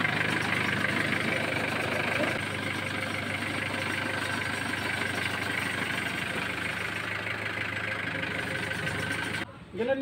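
A car engine idles steadily in a workshop during brake bleeding, a constant low rumble that runs the whole time before a brief drop near the end.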